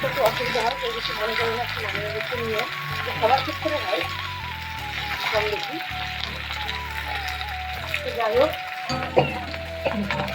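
Dried red chillies and onion frying in hot oil, a loud continuous sizzle with occasional stirring scrapes, close up, while a person talks over it throughout.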